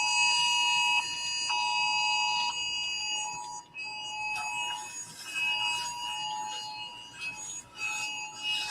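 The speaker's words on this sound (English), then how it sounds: "That's their alarms going off on their phones." Several phone alarms go off at once indoors, repeated electronic beeping tones in overlapping patterns that start and stop over several seconds, fairly near and with no talk.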